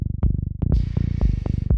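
A buzzy bass patch from the Serum synthesizer pulses in a quick, steady rhythm, with bright swelling overtones and sharp percussive accents cutting through at intervals.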